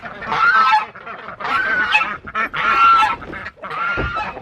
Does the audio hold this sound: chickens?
yes